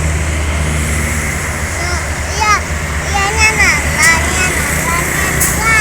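Expedition trucks roll past on a highway with a steady low engine rumble and road noise, a vehicle swelling closer midway, while a voice chirps repeatedly over the traffic.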